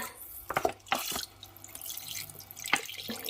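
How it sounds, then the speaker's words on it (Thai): Small spoonfuls of water are added to a Thai palm sugar and fish sauce mixture for a grape-leaf miang kham sauce, heard as a few brief, close drips and splashes over a quiet kitchen background. "แล้วก็เติมน้ำนิดหน่อยนะคะ เติมน้ำไปประมาณสองช้อน"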